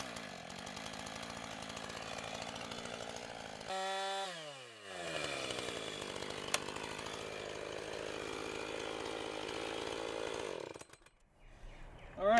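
A Jonsered chainsaw runs steadily on fast idle nearby with a loud, buzzing two-stroke drone, then the pitch dips and climbs as the throttle is blipped, settles again at a constant speed, and the engine cuts off near the end.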